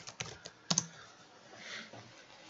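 Quiet, sparse typing on a computer keyboard: a few distinct key clicks in quick succession, then softer tapping, recorded close and faint with no speech.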